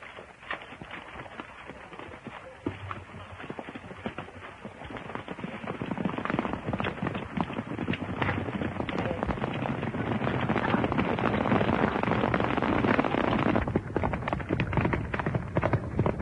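Horses' hooves clip-clopping as riders set off along a dirt road in an old western, a dense rapid patter of hoofbeats that grows louder and fuller midway before easing off.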